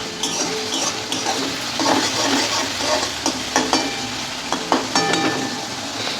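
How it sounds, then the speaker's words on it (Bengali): Onions fry and sizzle in a pan, a continuous close hiss broken by sharp scrapes and clacks as a spatula stirs them, with no talking. "পেঁয়াজটা লাল লাল করে ভেজে নেব"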